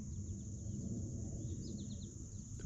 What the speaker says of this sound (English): the doves, lots of blue jays, and some cardinals singing in the background